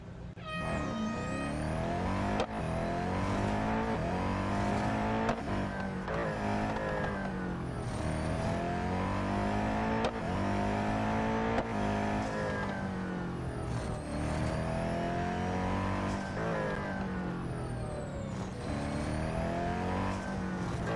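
Race car engines roar in a Real Racing 3 autocross at Melbourne, loud and continuous, with repeated revs climbing and dropping through gear changes and no talking over them.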